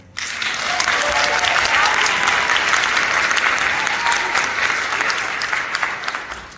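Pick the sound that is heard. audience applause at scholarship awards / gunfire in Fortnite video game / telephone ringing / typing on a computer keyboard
audience applause at scholarship awards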